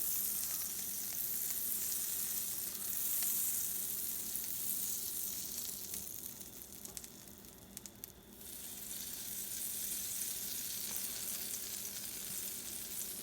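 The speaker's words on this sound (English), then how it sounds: "At this point, you could start spreading your butter so it's evenly on the pan" Butter melts and sizzles in a pan on a griddle, giving a steady close frying hiss that thins briefly midway as it is spread around, then returns for the rest.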